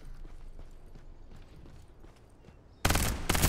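Gunfire exchange in the battle royale game Farlight 84: a loud burst of rapid shots breaks in near the end, cutting off abruptly after quieter, scattered game noise.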